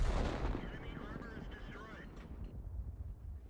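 A tank cannon fires in a video game, a loud booming blast at the start that rumbles and fades over a few seconds, with low rolling noise continuing underneath.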